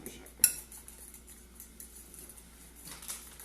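A spoon mixing fromage blanc in a bowl, with one sharp clink against the side followed by soft, quiet scraping and stirring, close by.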